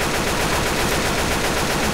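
Rapid automatic gunfire in the zombie shooter Left 4 Dead 2, a loud, dense burst of shots fired continuously for about two seconds with no talk.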